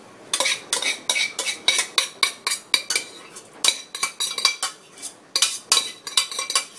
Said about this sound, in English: let's get some spinach mixed up in here